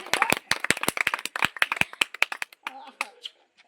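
A few people clap hands close by in sharp, uneven bursts that trail off into scattered claps, with voices talking over them.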